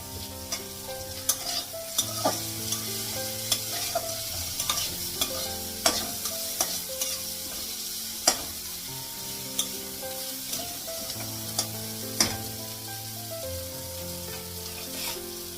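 Bitter gourd fries in a pan with a steady, close crackling sizzle, punctuated by regular sharp clicks and scrapes of a utensil stirring, with no voices.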